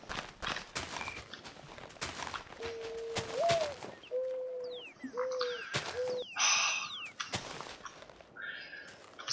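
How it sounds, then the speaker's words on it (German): Cooing pigeon in the video game Minecraft Tekkit: a few short, steady cooing notes in the middle, mixed with game sounds and clicking footsteps, moderately loud. "Sei still, Taube!"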